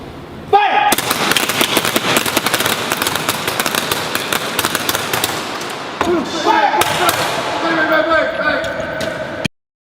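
Rapid bursts of blank gunfire ring out on the film set of John Wick 3: Parabellum, a dense, loud crackle of shots that runs for most of the stretch before cutting off sharply.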